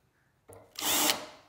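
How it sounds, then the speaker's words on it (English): A small drill bit whirs up briefly to deburr a rivet hole, a short loud high-pitched power-tool run close by with no talk. "just find a small drill bit"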